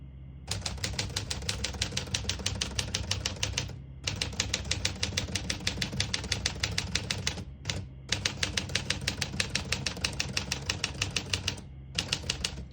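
A 1949 Smith-Corona Silent portable typewriter types in rapid, even bursts of crisp key strikes, pausing briefly between runs, with a margin bell marking the line's end.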